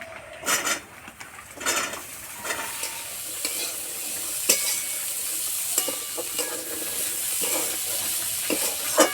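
Small diced potatoes fry with turmeric and spices in a pan, a steady soft sizzle under repeated scraping stirs and occasional clinks of a utensil against the pot, close and moderately loud with no talking.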